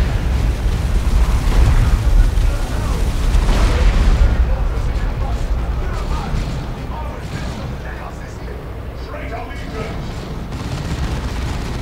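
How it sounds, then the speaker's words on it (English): Orbital bombardment in the Dawn of War 2 Retribution strategy game sets off a run of heavy explosions, loud and rumbling booms stacked over one another, with a voice talking over the battle. "Right here, I do another orbital bombardment, but missed terribly with that Predator tank turning and going away."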